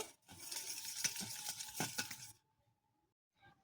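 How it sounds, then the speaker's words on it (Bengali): A utensil stirs cake batter of sugar and baking powder in a bowl, giving close, quiet scraping and clinking strokes in an uneven rhythm for about two seconds, then near silence with a brief faint clink at the end. "এটাকে আমি প্রথমে ভালো করে মিশিয়ে নেব।"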